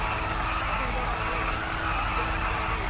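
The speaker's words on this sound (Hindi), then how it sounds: "ये बर्नआउट देख रहे हो?" A car doing a burnout in GTA 5, a steady roaring rush of engine and tire noise holding at one level throughout, with people talking over it.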